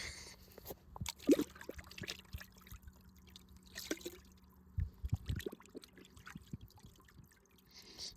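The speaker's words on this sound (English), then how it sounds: "And we just want to rinse this off." Water trickling and splashing as a cleaned bream is rinsed off outdoors at Fort Victoria on the Isle of Wight, a soft, uneven run of drips and pours with a few louder splashes, no talking.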